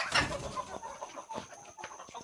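Free-range desi chickens and a multicoloured rooster in an old farmhouse shed in Ratnagiri, Sangameshwar, clucking in short, repeated bursts at close range, busy and fairly loud, with no talk over them.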